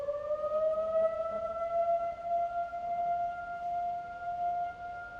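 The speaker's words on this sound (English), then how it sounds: "They're just testing the emergency sirens, so I think we're not in danger." A civil defense emergency siren being tested wails steadily for the whole stretch, a sustained rising tone with harmonics, moderately loud and somewhat distant, with no voices.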